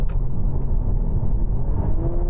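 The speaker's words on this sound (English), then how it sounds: "I'm going to do it again, cruising at 50, overtaking." A Honda Civic hybrid engine rises steadily in pitch as it accelerates to overtake from 50, a smooth mid-range hum with a faint whine, heard from inside the cabin with no talking.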